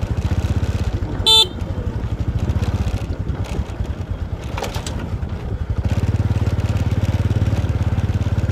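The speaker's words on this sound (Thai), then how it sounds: "บีบแตรให้กับหนุ่ม" A vehicle honks once with a short, sharp blast, heard near a big mountain at Phanom Rung, over a steady engine rumble.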